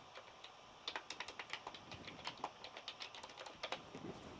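Fingers type on a computer keyboard in a quick, irregular patter of close, crisp key clicks with short pauses between bursts.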